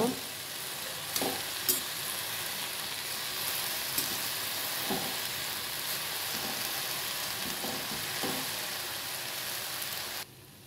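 Leafy greens fry in a pan with salt added, a steady close sizzle broken by soft scraping and clinks as they are stirred, continuing evenly for about ten seconds before cutting off.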